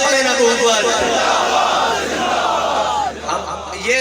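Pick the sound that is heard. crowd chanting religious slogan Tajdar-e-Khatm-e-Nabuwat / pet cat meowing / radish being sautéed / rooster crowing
crowd chanting religious slogan Tajdar-e-Khatm-e-Nabuwat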